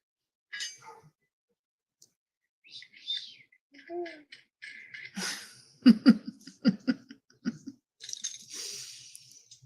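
Birds chirp and call outdoors in short scattered bursts of tweets and trills, fairly close and clear against a quiet background.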